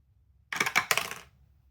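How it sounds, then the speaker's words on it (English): A handful of dice tossed onto a table, giving a brief clattering burst of two or three quick rattling impacts that fade within a second, alone against near silence. "let's get started with a roll for protein"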